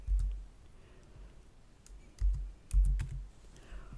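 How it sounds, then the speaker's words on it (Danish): Typing on a computer keyboard while entering input into GeoGebra, with bursts of close, soft key clicks separated by short pauses. "Så jeg kan jo prøve at taste noget ind."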